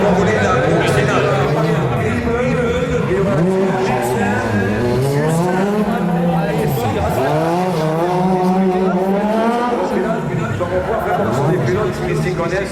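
Race cars in the final of a motor show event, engines of about 130 horsepower in lightweight cars, revving and shifting continuously with rising and falling pitch, loud and close, under a commentator's voice.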